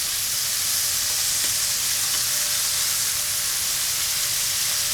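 Pork pieces sear in a single layer in a hot Dutch oven before a soy braise, giving a loud, continuous, close-up sizzle and hiss throughout with no talking.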